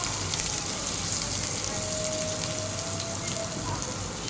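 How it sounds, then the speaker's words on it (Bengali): Sliced onions sizzle steadily in hot oil with bay leaf, dried red chillies and a pinch of cumin, an even close-up crackle that holds throughout without any talking. "পেঁয়াজটা একটু ভেজে নেব হালকা কালার হওয়া পর্যন্ত।"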